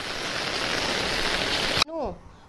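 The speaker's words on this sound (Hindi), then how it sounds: "ये देखो ज़रा और तेज़ हो गई, और तेज़ बारिश हो गई है." Heavy rain falls in a dense, steady roar during a downpour, then cuts off abruptly, followed by a brief low voice.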